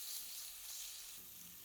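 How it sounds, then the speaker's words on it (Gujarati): Ginger-chili paste sizzles faintly in hot oil with asafoetida and curry leaves, a soft steady hiss with no talking. "તો થોડી જ વારમાં આદુ મરચાંની પેસ્ટ પણ સરસ કકડી ગઈ છે."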